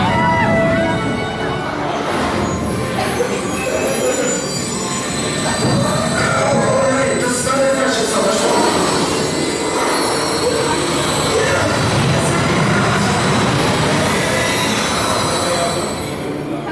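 Snoopy's Racing Railway, a roller coaster at Fantasiana in Austria, runs its train in a loud, sustained roar of rumbling wheels and high squealing on the track, with some background crowd noise mixed in.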